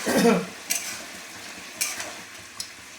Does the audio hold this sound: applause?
no